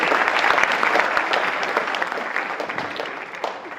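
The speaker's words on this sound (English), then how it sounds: "Give yourself a round of applause" A luncheon crowd at a Faces of Fatherhood event applauds in a thick, even burst that slowly tapers over a few seconds, with no talking over it.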